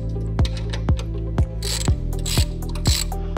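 A ratchet undoes small bolts on a check weigher conveyor with a wide belt: steady rapid clicking of the pawl, with a heavier clunk about every half second as each stroke ends, close and clear, no voices.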